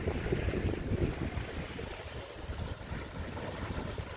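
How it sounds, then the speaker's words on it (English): Gusty wind buffets an outdoor spot near open water, a rough, rumbling rush with microphone buffeting that rises and falls steadily without any voices. "it's windy."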